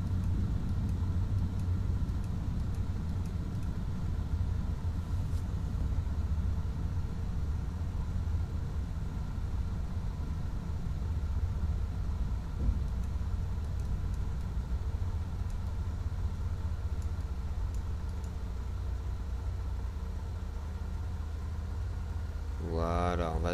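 A twin-engine Beechcraft Baron 58 with G1000 avionics taxis on the ground in Gabon, its engines idling in a steady, loud drone that fills the cabin throughout, ending with a short rising tone.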